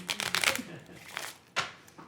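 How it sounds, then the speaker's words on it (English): Playing cards are shuffled at a magic show, giving a few quick riffling bursts close up, with short pauses between them and no talk over them. "Go ahead, shuffle up these cards."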